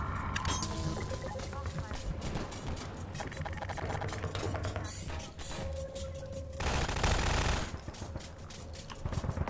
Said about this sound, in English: Just gotta shoot faster.